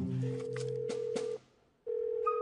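An unanswered phone call rings out in steady electronic tones, one long ring, a short silent gap, then the next ring starting, quiet and alone.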